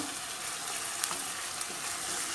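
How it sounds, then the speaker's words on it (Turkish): Onion sautéing in oil in a pan makes a dense, even hiss of frying, close and steady, with a couple of faint clicks and no voices. "Bir miktarda yağ koydum. Kavuruyorum."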